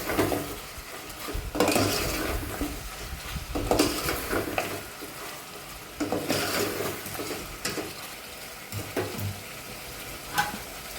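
A spoon stirs and mixes chicken curry gravy in a pan after coriander powder goes in, giving repeated scraping strokes over a soft sizzle, with occasional louder knocks against the pan.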